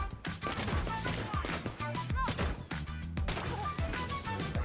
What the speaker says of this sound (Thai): เขาก็จะเปลี่ยนเป็นปืน แล้วเขาก็จะเริ่มยิง